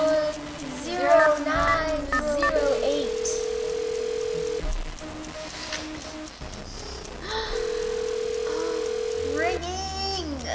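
Telephone dialing and ringing in the Nancy Drew: Stay Tuned for Danger game, with long steady tones and dial sounds heard twice, mixed with a person talking and laughing close by.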